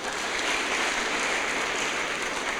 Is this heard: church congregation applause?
yes